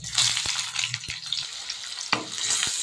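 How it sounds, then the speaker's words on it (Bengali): Sliced onions for beresta frying in white oil in a pan for soya biryani, a steady close sizzle with a few sharp stirring clinks and scrapes, no voices. "সাদা তেল দিয়ে দিয়েছি প্রথমে বেরেস্তাটাকে আমি ভেজে নেব"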